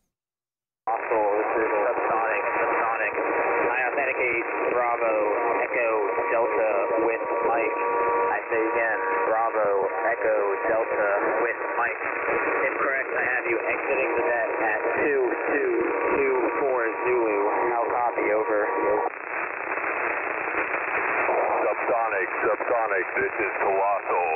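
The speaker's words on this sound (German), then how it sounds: "Ich gebe euch mal ein Beispiel, wie es sich anhört, wenn man auf einer HF-Frequency immer auf Hörbereitschaft ist." Band-limited HF radio in a VATSIM online flight simulation, with steady static hiss and garbled, hard-to-follow voice chatter running continuously and loudly throughout.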